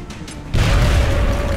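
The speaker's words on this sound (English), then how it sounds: "I'm just gonna throw a grenade at him." A grenade blast in the strategy game XCOM: Enemy Within: after a brief quiet lead-in, a sudden loud booming burst with a heavy low-end rumble that sustains and slowly decays through the rest of the moment.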